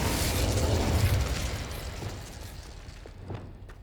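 The Confringo blasting spell from the Hogwarts Legacy video game goes off in a loud, booming burst that rumbles and then fades gradually into a quieter tail.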